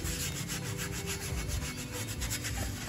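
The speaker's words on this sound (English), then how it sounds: "I'm just gonna take this red pad and" A red abrasive pad scrubs rusty steel rims on an M37, giving a continuous close scratchy rubbing with rapid back-and-forth strokes and no talk.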